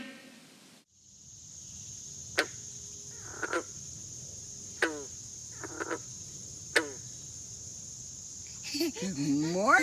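Frogs call outdoors in the morning: several sharp, raspy croaks and trills spaced a second or two apart over a steady high insect-like drone, with a louder chorus building at the end.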